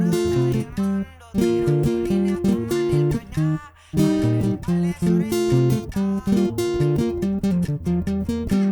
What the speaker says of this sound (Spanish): El rasgueo que vamos a utilizar suena de la siguiente manera